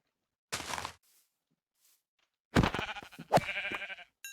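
Sheep in the Minecraft video game bleat in a few short, close calls: one brief bleat, then a longer run of wavering cries after a pause, with no talking.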